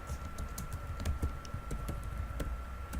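Keys clatter on a computer keyboard while code is being typed, a quick irregular run of close, soft clicks with a faint steady hum behind and no talking.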